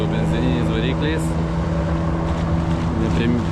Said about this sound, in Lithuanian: Startas. Kaip visada visi su benzininiais varikliais.